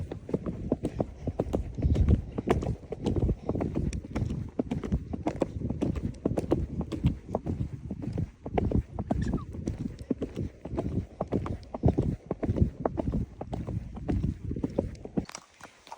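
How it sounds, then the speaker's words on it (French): Horse's hooves drum in a fast, steady clip-clop as it gallops a short stretch at the end of a riding session, close and loud, with rhythmic thuds running almost continuously. "on vient de faire une petite longueur au galop là-bas, là derrière."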